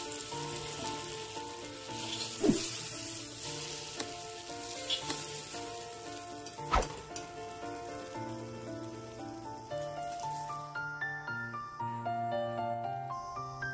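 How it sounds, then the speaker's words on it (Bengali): Pointed gourds (potol) fry in oil with a steady sizzle under louder background music, broken by a few sharp pops and spatters. "দেখুন আমার পটলগুলো প্রায় খুব ভালোভাবে ভাজা হয়ে গেছে একদম লাল করে"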